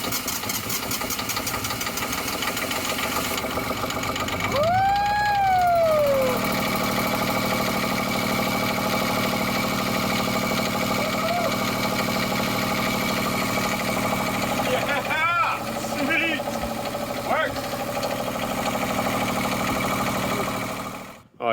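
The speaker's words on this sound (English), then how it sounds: "this is the first time we are trying to start the engine generator" A boat's engine-driven generator cranks and fires up for the first time, then settles into a steady mid-pitched running drone that continues near and loud throughout, with brief whines and clanks over it.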